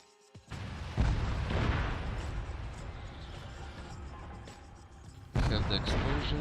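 Artillery explosions in a video game scenario: a heavy boom lands about a second in, followed by sustained rumbling blasts and a second loud impact near the end, close and loud throughout.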